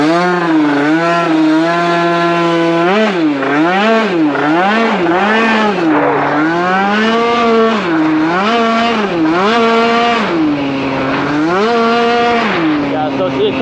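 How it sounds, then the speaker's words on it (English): A street-tuned Yamaha Aerox scooter engine is held at high revs, loud and close, its pitch bouncing up and down repeatedly as it hits the rev limiter, with no break in the sound. "it's hitting the rev limiter now"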